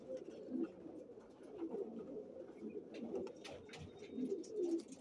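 Racer pigeons cooing near a loft as they make their first flight of the season, a soft steady murmur of coos and bird calls throughout with a faint voice in the background.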